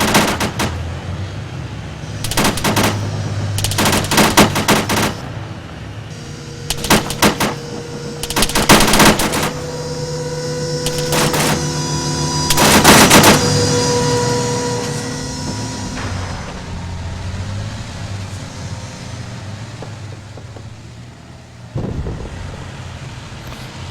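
Heavy gunfire from tanks and troops in the video game Arma 3: loud bursts of rapid automatic fire and sharp shots in clusters, with a rumbling battlefield background that fades toward the end.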